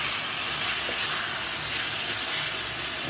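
Katla fish pieces frying in spice masala in a pan give a steady, loud, dense sizzle and hiss that runs unbroken and close throughout.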